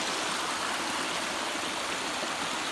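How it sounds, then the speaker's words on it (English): A mountain waterfall and stream pour steadily nearby, a bright, dense hiss of rushing water that holds at an even level without a break and with no voices. "we came up the falls a little ways"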